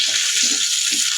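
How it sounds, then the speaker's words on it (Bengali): Pieces of fish frying in oil produce a brief, loud, dense sizzle heard up close, with soft bubbling and faint stirring beneath the hiss. "গাঁঠিগুলো আমি আর একটু ভেজে নিব"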